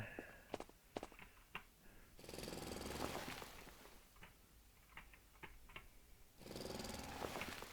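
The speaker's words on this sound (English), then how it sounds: "I think I'm just going to drill on this level, and then we'll take the floor out." Drilling in the video game Foundry, while digging down through a level: bursts of harsh, broadband grinding at close range alternate with sharp clicks and ticks, with two sustained drilling stretches standing out loud against quieter gaps.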